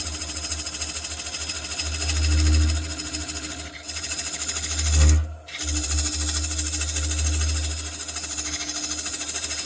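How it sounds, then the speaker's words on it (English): A wood lathe turning elm with the work held far out from the chuck jaws judders in a rapid, steady mechanical rattle, with brief pulses and a short dip mid-way, alone without talk. "Juddering going on here, got a long way out from the jaws."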